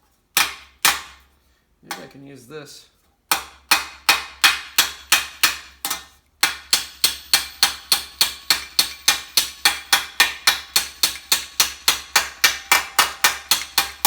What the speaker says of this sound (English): I'm just going to angle this hammer down into here and get it right into the corner.